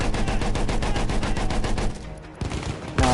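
Dense, continuous cannon and machine-gun fire from Battlefield 1 roars for about two seconds, drops away briefly, then heavy booming shots return.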